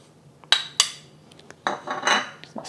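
A spoon clinks sharply against a bowl a few times while stirring a soy sauce and brown sugar mixture, followed by softer scraping and swirling, close up and without talk.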